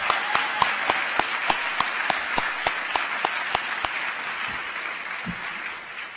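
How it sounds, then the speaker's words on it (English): Audience at a conversation event with Misty Copeland gives scattered applause, distinct individual claps at an uneven rhythm that thin out and fade toward silence. "I expect more applause for the next one, too."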